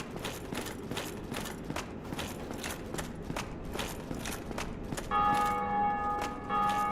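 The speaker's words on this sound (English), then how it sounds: "you can hear all the people ringing the bell" A bell rings out in the Dark Souls DLC game, its bright sustained tone entering late over a steady run of rhythmic clattering footsteps and background game ambience.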